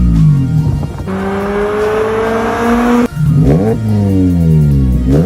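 Mazda MX-5 ND with a handmade stainless steel double exhaust replacing the stock silencer revs hard and loud nearby, rising in sustained climbs, dropping briefly, then blipping through quick repeated rises and falls.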